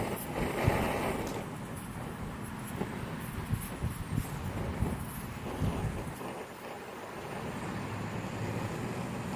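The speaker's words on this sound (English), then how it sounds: "Wind's picking up." Gusty outdoor wind rumbles and buffets close up, with swelling bursts over a steady rushing background and no voices.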